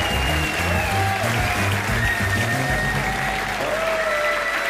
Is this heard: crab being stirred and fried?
no